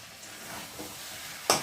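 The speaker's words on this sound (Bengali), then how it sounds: "চিকেনের সাথে আলুগুলোকে একটু ভালো করে কষিয়ে নেবে।" Chicken and fried potatoes sizzle softly in a pan while being stirred, a low steady hiss broken near the end by a sharp scrape of the spatula.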